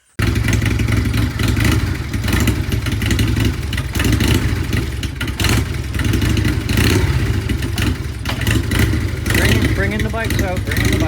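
Motorcycles being brought out with engines running, a loud close rumbling drone that holds steady with clatter and revving, with a voice over it near the end.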